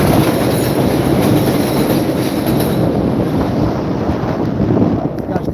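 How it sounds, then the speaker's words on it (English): Subway train rumbling by overhead in New York City, heard from a car below: a loud, steady broadband roar with wheel squeal and wind buffeting that holds for several seconds before easing slightly near the end. "We got another subway train above us."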